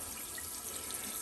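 Hot water runs steadily from a tap, a constant hissing splash at low level with no break.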